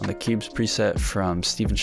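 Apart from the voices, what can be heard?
None of the usual background noises is heard.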